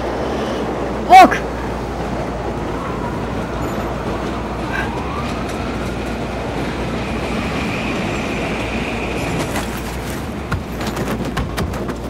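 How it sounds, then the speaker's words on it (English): A train in the video game Battlefield 3 passes as a steady, loud rumbling roar with metallic squeals, mixed with one sharp bang, shouting and game effects. "The train's coming."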